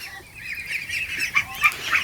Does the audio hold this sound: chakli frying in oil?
no